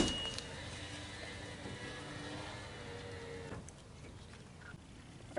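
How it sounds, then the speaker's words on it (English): A rear power window on a Toyota Sequoia motoring down with a steady electric whir for about three and a half seconds, then stopping, leaving quieter background noise. "first thing we got to do is get that back window down"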